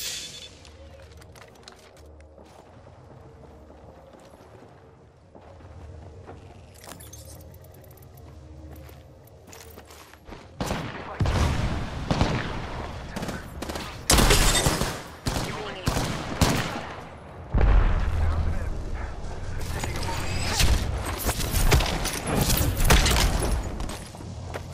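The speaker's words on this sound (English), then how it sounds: "Shots fired, and they're hitting me." Gunfire in the video game Apex Legends, quiet at first, then loud bursts of rapid automatic fire and single shots in clusters, with short pauses between volleys.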